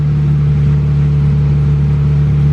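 A turbocharged Honda Civic EG hatchback with a stock LS VTEC engine runs on a dyno, holding a steady, loud low drone at slightly raised RPM with no change in pitch throughout.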